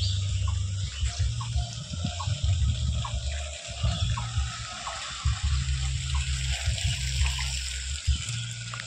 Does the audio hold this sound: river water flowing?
yes